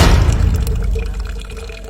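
Water drips and trickles from a vine freshly cut with a bolo knife in the forest, a close, steady liquid patter that stays loud throughout and carries no talk.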